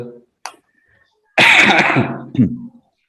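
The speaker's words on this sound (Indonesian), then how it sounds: "Maaf, agak batuk lagi." A single loud, harsh cough close to the microphone, followed by a shorter rough throat sound, with quiet pauses around it.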